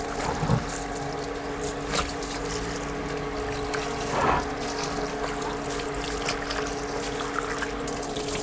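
Water pouring steadily from a pipe outdoors, a continuous loud rushing trickle with occasional splashes, no talk over it.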